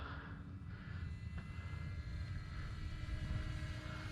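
A radio-controlled Cessna 182 model airplane engine holds steady at three-quarter throttle, a continuous distant buzzing drone heard faintly outdoors with no speech.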